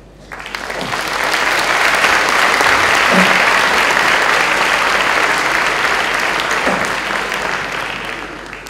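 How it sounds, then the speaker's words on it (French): A large audience at a French school graduation ceremony breaks into loud, sustained applause that swells quickly, holds steady for several seconds, then begins to fade, with no speech over it. "vos familles et les équipes du pôle Léonard de Vinci sont là ce soir, vous pouvez les applaudir"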